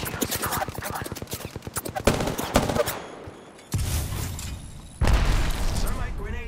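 Rapid automatic gunfire in the battle royale game Apex Legends, dense loud bursts of shots with heavier booming blasts and short gaps, under voices talking.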